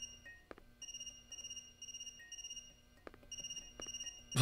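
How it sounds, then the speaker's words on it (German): Mobile phone ringing in the horror video game hololive ERROR: a quiet electronic ringtone repeats in short pulsing bursts of tones, with a few faint clicks between rings and a loud burst at the end. "Puh, unser Handy."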